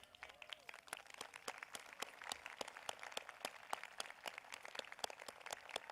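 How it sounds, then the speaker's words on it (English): Claps ring out at a high school commencement ceremony as students applaud their parents. The sound is faint and distant, with sharp, regular strikes in a steady rhythm rather than a dense roar, and no voices over it. "together, let us give a round of applause to your parents"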